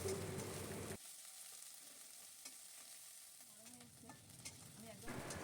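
Chopped onion and garlic stir-fried in mustard oil for masoor dal, a steady hiss of frying with spoon scrapes and soft stirring knocks close by, no one talking.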